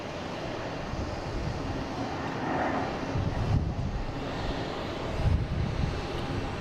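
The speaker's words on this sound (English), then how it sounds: "And we have a JetBlue coming in from Fort Lauderdale, an A220." A JetBlue Airbus A220 arriving at Boston Logan International Airport from Fort Lauderdale: a steady, distant jet engine roar mixed with wind noise that swells slightly now and then, with no talking.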